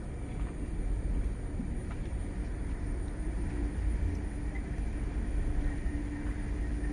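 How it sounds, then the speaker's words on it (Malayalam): A train approaches a railway station, its low, steady rumble filling the air without a clear rise, with faint background noise around it. "അപ്പോൾ നമ്മുടെ ട്രെയിൻ വരുന്നുണ്ട് കേട്ടോ."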